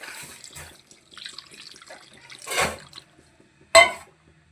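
Water poured into a pot of browned meat for a Bengali curry, heard as a few short splashy bursts with one brief louder pour near the end, close and fairly quiet with no talk.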